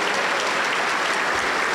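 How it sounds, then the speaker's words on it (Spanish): A Pentecostal church congregation in Huancayo applauds loudly to welcome the youth choir, with steady, dense clapping that fills the room without a break. "Vamos a recibirle con fuerte aplauso para el Señor Jesús."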